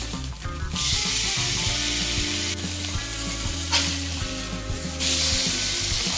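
A thin cut steak sizzles loudly in a hot frying pan, a dense close crackling hiss that surges briefly in bursts as the meat shifts and is flipped.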